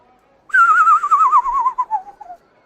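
A person whistles a signal: one sustained, warbling whistle that wavers steadily and slides gently downward in pitch for about two seconds, loud and close, then cuts off into silence.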